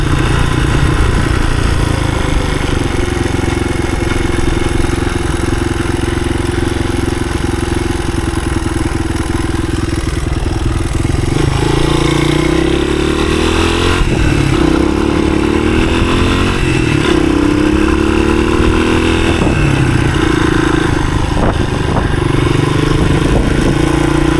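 A 1983 Honda XR200R motorcycle climbing a hill in third gear, a steady loud single-cylinder drone with rhythmic shifts and rising revs, close up and alone.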